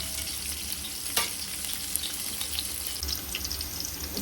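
Onions fry in a pan for chicken curry and leg fry biryani, giving a steady close sizzle with occasional stirring scrapes and clinks.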